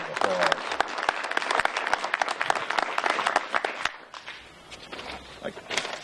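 Audience applause at an outdoor Riverside Park ceremony, many hands clapping in a dense crackle for several seconds that thins to scattered claps before ending.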